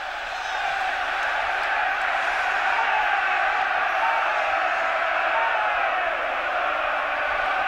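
Home supporters at the 1983/84 UEFA Cup Final first leg between Anderlecht and Spurs roar in a steady, massed stadium din that holds at an even, fairly loud level throughout and is heard from a distance.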